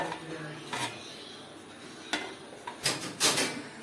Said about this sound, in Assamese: এইফালে আমি ডেক্সি পাতি দিলোঁ